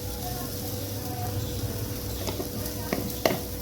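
Frying corn sizzles steadily in a pan while a spoon stirs it, with a few sharp spoon clinks against the pan near the end.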